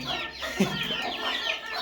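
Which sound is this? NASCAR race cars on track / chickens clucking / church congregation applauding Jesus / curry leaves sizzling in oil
chickens clucking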